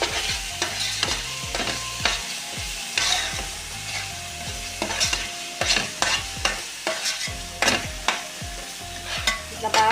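Andhra-style fish curry ingredients with salt and green chillies are stirred in a pan, with a steady run of close spoon scrapes and clanks over a constant frying sizzle.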